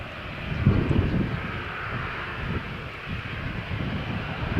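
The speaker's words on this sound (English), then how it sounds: "Jet2.com to Manchester is taxiing for takeoff" A Jet2 Boeing 737-85P taxiing for takeoff at Malaga Airport on a stormy morning, a distant steady jet engine hum with wind rumble, fairly faint.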